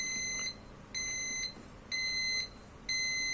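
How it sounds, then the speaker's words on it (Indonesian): A loom RPM counter device sounds its warning buzzer in four steady electronic beeps, each about half a second long with short gaps between, over a low background hum and no speech. "maka akan ada buzzer peringatan bahwa perhitungannya abnormal"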